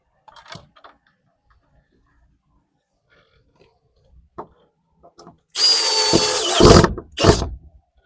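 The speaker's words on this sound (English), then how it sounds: "Put in the second screw." A few soft taps and handling knocks precede a loud, close power drill that whirs for about two seconds as it drives a screw into a wooden fence gate, then gives a final short burst.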